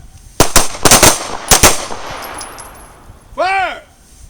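Pistol shots at a self-defense training range, a string of loud sharp reports in quick pairs and close groups, several ringing over the next seconds, followed by a brief electronic beep or whistle and a shouted voice.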